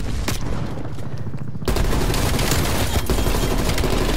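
Grenade blast and rapid gunfire in the video game Call of Duty: Black Ops Cold War, a sudden loud boom followed by dense continuous shooting, close and intense.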